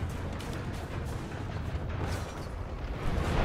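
A powerful gunshot from a weapon in the video game Rise of the Tomb Raider: a dense, loud burst of noise that swells near the end.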